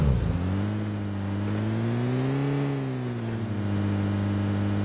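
A car engine drones steadily while driving in PUBG on the Livik map, a loud, continuous hum that rises and dips slightly in pitch, with no talking.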